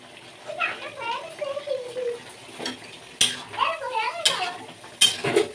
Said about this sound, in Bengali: মশলাগুলোকে সুন্দরভাবে তাতে মেলার জন্য নাড়িয়ে নেব